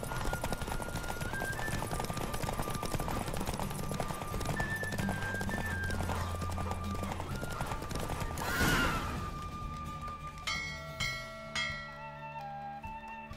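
Horse hooves pound in a steady galloping clip-clop during a race in The Witcher 3, held at a constant level under game music. Near the end the galloping gives way to a whinny and scattered bell-like tones.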